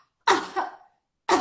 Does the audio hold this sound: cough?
yes